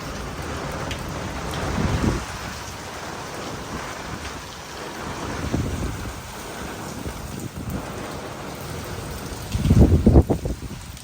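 Evening rain falling steadily in a windy village, a continuous broad wash of drops with a few louder gusty swells, including a stronger surge near the end.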